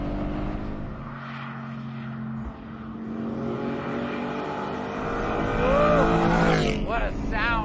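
A Porsche engine drones steadily and resonates off a roadside guardrail, its tone swelling and rising in pitch toward the end as the car draws closer, with a voice talking over part of it.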